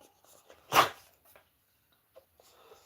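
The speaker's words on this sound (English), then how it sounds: "This damn dog." A dog in a house gives one sharp bark followed by faint soft whimpers and small noises in a quiet room.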